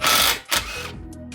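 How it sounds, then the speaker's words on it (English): A pawn-shop electric impact wrench works a bolt loose on the suspension of an MR2 Spyder during a camber bolt install, two loud close whirring bursts separated by a brief pause, then a fading mechanical rattle. "Make sure you get one of these pawn shop electric impacts because it makes everything really easy."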